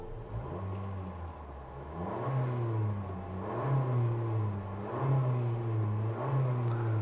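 A Honda Civic RS Turbo engine idles, then revs up in four or five rising blips in steady succession, sounding somewhat muffled and even, with no talking.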